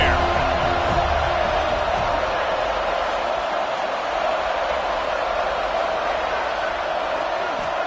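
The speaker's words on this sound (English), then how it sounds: "this crowd trying to help keep them there." Football stadium crowd at a Florida State vs Navy game roaring steadily with a dense wash of cheering and shouts, loud and continuous throughout, with a play-by-play voice faintly mixed in.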